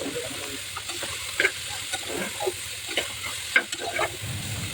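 Marinated masala frying in a pressure cooker hisses with a continuous sizzle, while a spoon scrapes and clinks against the metal in irregular stirring strokes, up close with no voices.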